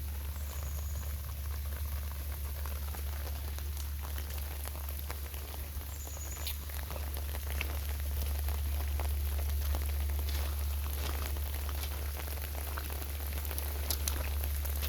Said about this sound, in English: Oh god, it's raining harder.